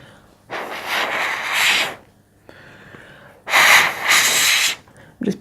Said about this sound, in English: I'm just blowing the paint down the way there